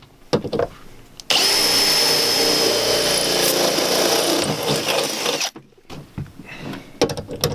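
A power tool runs loud and steady for about four seconds while setting rivets into the sheet metal of a Mercedes Sprinter 170 van body, with short clicks and knocks before and after.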